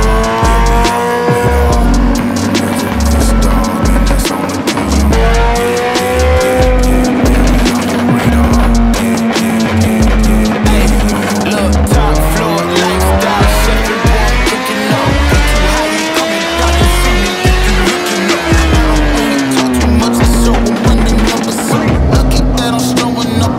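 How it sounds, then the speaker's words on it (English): A 2015 Suzuki Hayabusa with a Brocks Penta-Carbon exhaust revs hard on a dyno, the engine note sweeping up and down through repeated loud, continuous rev cycles that run throughout with no talking. "let's warm up the bike."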